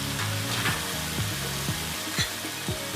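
Masala spices (turmeric, red chili, ginger garlic paste, jeera and coriander powders) sizzle loudly in hot oil for North Indian chole, a steady close frying hiss broken by a few stirring scrapes.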